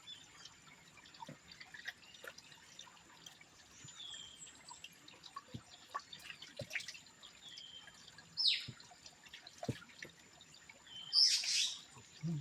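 Two brief, distant bird chirps stand out against quiet background ambience with scattered soft drips and clicks.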